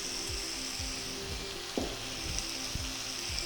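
Ingredients for masala kichdi sauté in a hot pan, giving a soft constant sizzle broken by rhythmic scraping strokes of a stirring spoon.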